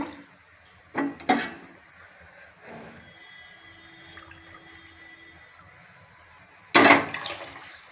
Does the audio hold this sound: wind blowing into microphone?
no